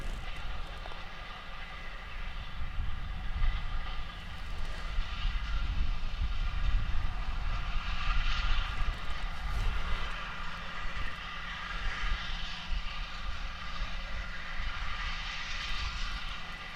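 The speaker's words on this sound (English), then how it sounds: "as the tractor comes up the field there" A steady low Fendt tractor engine rumble drones continuously as it rolls up a field, fairly loud and close, with a broad mechanical hum and no voices.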